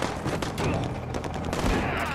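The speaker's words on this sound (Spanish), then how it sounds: "Un balazo." Gunfire in the video game Call of Duty Modern Warfare 3 comes as a dense, loud burst of rapid shots and cracks throughout, with someone speaking over the barrage.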